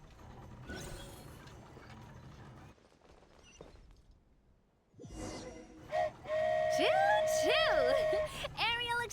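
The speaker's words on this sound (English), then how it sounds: "Choo-choo! Aerial Express moving out." Genshin Impact's Aerial Express flying train departs with rumbling, clattering mechanisms followed by a loud, sustained steam-style whistle with bending pitch, while a voice talks under it.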